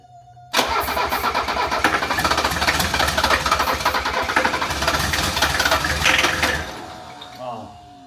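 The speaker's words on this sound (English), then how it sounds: "If it doesn't fire right up too real quick, I'm not gonna hold on the starter though." A 1978 Mercedes 300CD with a swapped engine cranks on a hot starter and catches, a loud rough churning and rattling run for about six seconds before it dies back down, with a voice briefly in the background.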